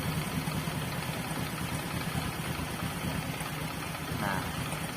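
A Honda Supra X 125 motorcycle with a carburetor idles steadily after its idle screw is turned down, a low, even engine hum close by, with someone talking quietly over it.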